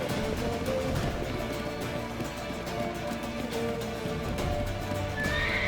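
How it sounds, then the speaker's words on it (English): Horse neighing and whinnying amid galloping hoofbeats in The Witcher 3: Wild Hunt, loud and continuous over a dense game soundscape. "Leave your horse!"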